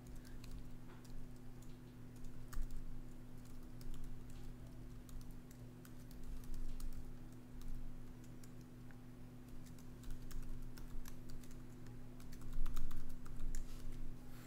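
Close, steady typing on a computer keyboard, a dense patter of key clicks over a constant low electrical hum, without talk.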